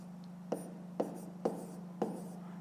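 A pen writes by hand on paper in four quick, distinct strokes spaced about half a second apart, quiet and close, over a faint steady hum.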